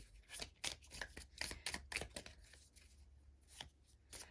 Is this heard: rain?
no